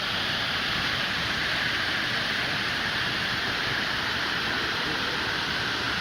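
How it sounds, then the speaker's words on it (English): An indoor waterfall inside the tropical rainforest dome of the Eden Project in Cornwall gives off a steady, dense, full-bodied rush of falling water, constant and unbroken throughout. "There's the old waterfall."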